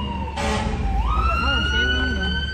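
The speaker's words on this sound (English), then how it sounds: "Man, it's loud right now. This is an ambulance." A loud ambulance siren wails close by as it passes, its rising and falling tones sweeping over heavy traffic rumble, with people talking underneath.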